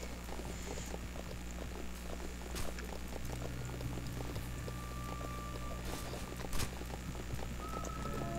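Steady clip-clop of horse hooves in Roblox's Wild West game, the quick, even hoofbeats running for the whole stretch at moderate volume with no talk over them.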